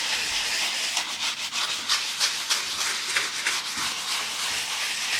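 Close, rhythmic scrubbing of tile and grout with a coarse sponge, repeated hissing rubbing strokes at a steady brisk pace with no talk.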